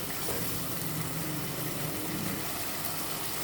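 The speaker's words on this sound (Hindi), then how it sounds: "इसमें पानी डाल दिया" Water pours and bubbles into a karahi of kaleji on the stove, a steady close hissing, sizzling wash that holds evenly throughout with no talking.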